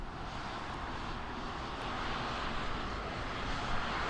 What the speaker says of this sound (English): Do I hear a plane? Is that plane taking off or landing?